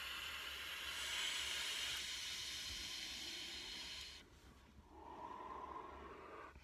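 A steady, close airflow hiss from a vape during a hit lasts about four seconds, then cuts off sharply into a quieter, softer rush.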